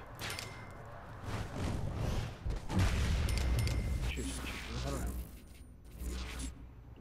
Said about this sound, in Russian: Вот взрыв есть.